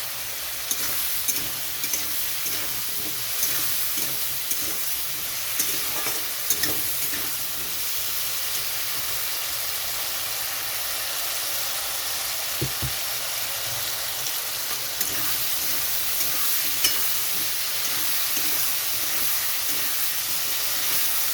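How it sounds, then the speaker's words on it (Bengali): Spice paste with green chillies and cumin powder sizzles steadily in a pan, a constant frying hiss with occasional soft scrapes and taps of stirring throughout. "তো মশলাটা দিয়ে এরকমভাবে কষিয়ে নিতে হবে।"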